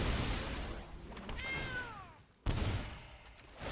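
A cat meows once inside MTG Arena as the card is sacrificed, a clear, rising-then-falling cry set over a dense, steady game backdrop, followed by a sudden burst of effects.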